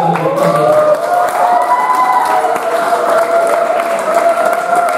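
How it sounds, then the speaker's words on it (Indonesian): Applause from a classroom audience after a student presentation of a Pancasila student profile project at a vocational school, steady and dense, with a sustained tonal hum or voice running underneath. "tepuk tangan sekali"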